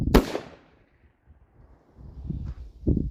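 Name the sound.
45 Colt single action revolver gunshot over chronograph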